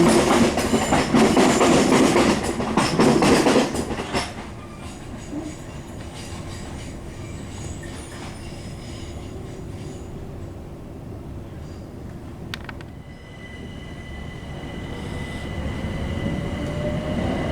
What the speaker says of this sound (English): These are the Electrostar trains.